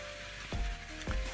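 Oyster sauce hits a hot wok of stir-fried papaya flowers, a steady sizzle swelling in two quick bursts as it is poured and stirred, close and alone.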